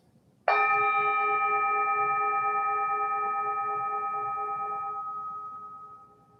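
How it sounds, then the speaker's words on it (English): A single meditation bell is struck once after a moment of quiet, ringing out clear and sustained with a shimmering tone that slowly decays over about six seconds, heard alone. "listen to the sound of this bell all the way to the end"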